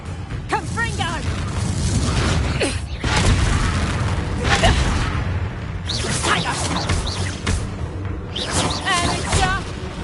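Confringo blasting spells in Hogwarts Legacy burst into repeated booming explosions with whooshing crackles, mixed with combat noise while voices call out through the fight.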